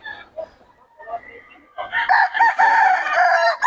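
Chickens among a group of fowl at Bocaue: soft clucks and scattered calls, then a rooster lets out a loud, close, drawn-out crow, with faint voices in the background.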